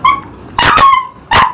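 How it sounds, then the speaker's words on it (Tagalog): A dog barks angrily close by: a high whining yelp, then a sharp double bark and a third bark after a short pause, loud and alone. "nagalit na yung aso mo yan"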